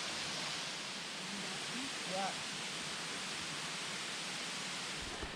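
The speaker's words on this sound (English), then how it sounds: "On top of the waterfalls, Laurel Fork Falls." Laurel Fork Falls on the Foothills Trail, a steady broadband rush of falling water heard from above the falls, constant and moderately loud, with a brief faint voice partway through.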